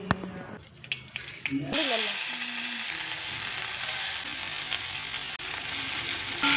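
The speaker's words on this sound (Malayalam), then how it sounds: "എണ്ണ ഒഴിച്ച് നമുക്ക് കടുക് പൊട്ടിച്ചിട്ട് ഉള്ളിയൊക്കെ വഴിച്ചെടുക്കാം" Mustard seeds splutter and onions sauté in hot oil for a squid thoran, a brief stir giving way to a loud, steady sizzle that continues to the end.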